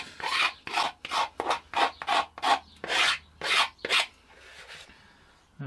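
Glass fibre on a motorcycle part is sanded by hand in about eleven brisk rasping strokes, each a short scratchy burst with brief gaps, close and fairly quiet, then trailing into a softer rub.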